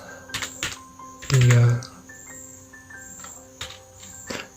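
A computer keyboard types a trim command while a floor plan is drawn on a computer, with a few sharp, separate key clicks spread across several seconds, partly under a person speaking.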